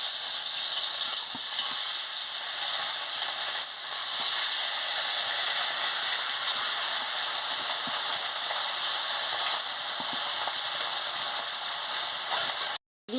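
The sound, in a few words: catla fish frying in hot oil in a wok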